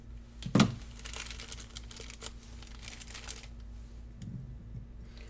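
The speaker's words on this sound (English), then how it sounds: "I'm going to again cut up the corner of it" Scissors snip the corner off a plastic bag in a lab: a sharp close crinkle and cut near the start, followed by softer plastic rustling and faint handling sounds.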